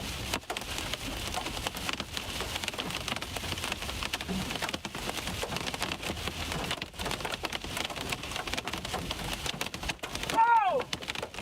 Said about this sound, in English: Big time hail, one of the biggest cores I've ever intercepted.